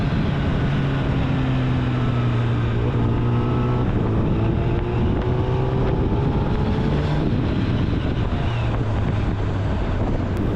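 A motorcycle rides along a road near Shivneri fort in Junnar, its steady engine drone shifting pitch with gear and speed, heavily buffeted by constant wind noise.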